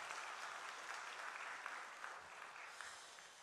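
A church congregation at a Sunday worship service in Busan applauds together, a steady wash of many hands clapping that fills the room for a few seconds at moderate, distant level.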